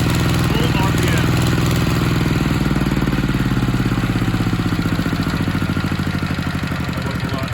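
ZR185 Chinese single-cylinder diesel engine running at full RPM, a loud, fast, rhythmic mechanical chugging and clatter, steady and close, with a voice speaking over it.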